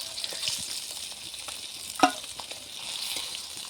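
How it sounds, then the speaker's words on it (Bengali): Small salted tengra fish fry in hot oil with a constant crackling sizzle, broken by a few light stirring scrapes and one sharp utensil clack midway. "এবার মাছগুলো ভেজে নিচ্ছি"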